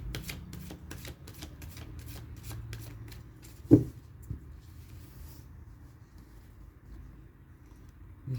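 Tarot cards shuffled in a quiet indoor setting, a run of quick, soft riffling bursts repeating for about four seconds, then a single sharper tap before things go still.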